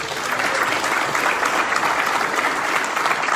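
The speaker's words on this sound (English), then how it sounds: "y'all give him a round of applause" A crowd gives a steady round of applause in honour of an absent man, dense clapping from many hands at an even level from start to finish.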